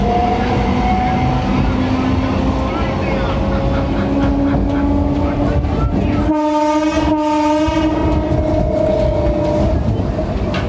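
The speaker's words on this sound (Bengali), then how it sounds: "আমাদের ট্রেন এখন ঢুকছে পাতিপুকুরে" A Kolkata Circular Railway local train rumbles loudly as it pulls into Patipukur station. Wheels clatter steadily under the roar, and a long horn blast sounds in the middle while a voice talks faintly.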